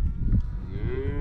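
A Mashona cow in a pasture lets out one drawn-out moo close by, a single low bellow lasting just over a second.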